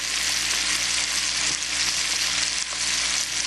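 Onions and cherry peppers sizzle steadily in a hot pan while being stirred, a loud, close, continuous frying hiss with no voices.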